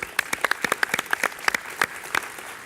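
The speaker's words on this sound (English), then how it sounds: "So we should give them a round of applause." A small audience at a public policy conference gives a short round of applause, with sparse, distinct individual claps rather than a dense roar, lasting only a few seconds.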